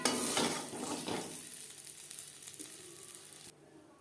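Panch phoron and dried red chilli sizzling in hot oil in a kadai used earlier for frying paneer, a steady close crackle that opens loud with stirring scrapes and then settles to a softer, continuous hiss.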